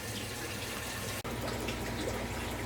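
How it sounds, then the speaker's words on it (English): Water rushes steadily during an aquarium water change, draining and refilling a fish tank at once, with a brief break in the flow midway. "I'm just going to be doing a water change, draining and filling at the same time in order to clean things up as much as possible"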